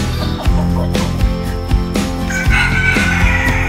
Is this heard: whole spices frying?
no